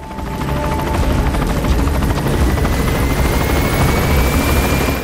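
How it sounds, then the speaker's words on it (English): An enemy helicopter in the video game Metal Gear Solid 5: The Phantom Pain roars steadily and loudly with a dense rotor thrum and engine whine, sustained without pause and with no talking over it. "that is not our helicopter, that's actually an enemy"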